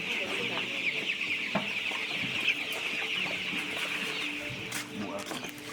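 Chickens cluck steadily and close by on a poultry farm in the Central African Republic, with a busy chorus of overlapping clucks and a few sharper calls.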